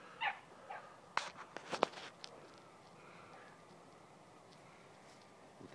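A hunting dog barks in a few sharp, fairly close bursts while marking a rabbit out in the field, then falls quiet, leaving only faint rustling and outdoor background.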